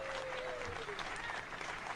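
Audience applause at a comedy show, a steady dense wash of clapping that fills the whole moment at moderate volume, with a faint voice or tone threading underneath.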